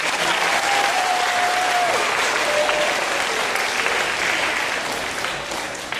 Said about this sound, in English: Clap if you could say that. Clap if you could.